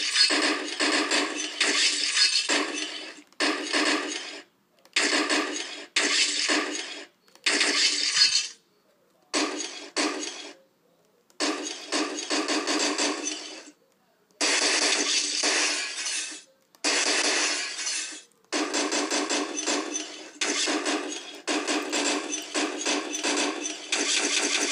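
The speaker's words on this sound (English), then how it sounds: "Now here, I'll start smashing with a hammer." A hammer smashes a Windows XP desktop in the game Desktop Destroyer, a long run of loud glassy cracking and crunching impacts in short bursts separated by brief silent gaps.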